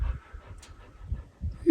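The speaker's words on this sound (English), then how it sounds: "I hear a puffing of the puppy" An old dog pants quickly and softly in a steady, rhythmic series of puffs close by in a quiet garage.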